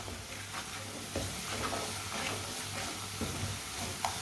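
Spices frying in a pan for a winter egg recipe while a spoon keeps them moving, giving a continuous soft sizzle with intermittent scraping strokes, close up and with no talking.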